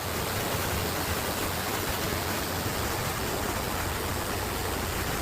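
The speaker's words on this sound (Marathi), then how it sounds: "आता बंधारा भरून वाहतोय." River water overflowing a full weir on farmland, a steady, dense broadband rush like a waterfall that holds constant throughout with no voices.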